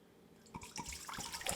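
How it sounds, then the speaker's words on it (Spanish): Tap water splashes and patters into a cooking pot, starting faintly and building into uneven drips and splashes at close range. "Empezamos llenando una olla con agua"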